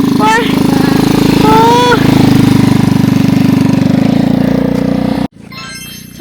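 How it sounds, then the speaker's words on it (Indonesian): Motorbike engine on a mountain trekking trail near Plunyon, a loud steady near drone that runs unbroken for about five seconds, then cuts off sharply, leaving a quieter background with a brief exclamation and voices earlier in the clip. "Lihat orang naik motor."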